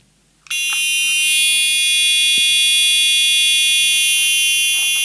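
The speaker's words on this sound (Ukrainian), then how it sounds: "Я можу вам показати, наскільки він гучно пішить" A battery-powered carbon monoxide detector sounds its alarm, a loud piercing continuous electronic tone that starts abruptly after a brief quiet moment and holds steady to the end.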